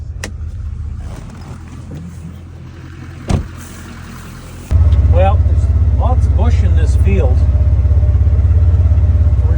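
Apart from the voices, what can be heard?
side-by-side utility vehicle driving through a farm pasture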